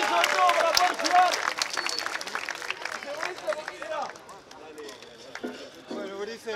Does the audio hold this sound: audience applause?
yes